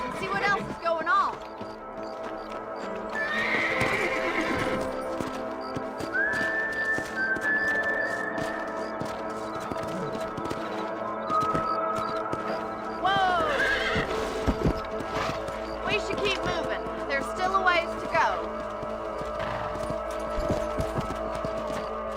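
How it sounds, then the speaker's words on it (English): Horses in the Red Dead Redemption video game clip-clop steadily along while neighing and whinnying several times, with voices talking over the hoofbeats throughout. "Let's get back on the horses and see what else is going on."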